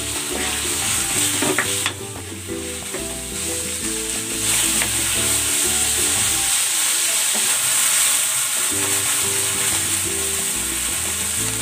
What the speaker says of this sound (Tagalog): Gigisa ko na rin tong sibuyas. Ilalagay ko na rin tong ground pork.